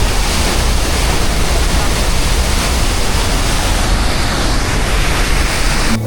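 Mini Devkund waterfall at Bhorgiri roars in a steady, dense rush of falling water, loud and continuous throughout with no breaks, close enough to fill the whole scene.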